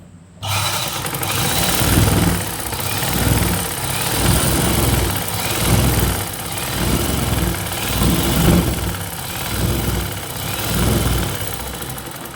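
A sewing machine runs continuously while stitching the side seam of a blouse, giving a steady motor hum with a rhythmic pulsing whir that rises and falls through the run, with no talking.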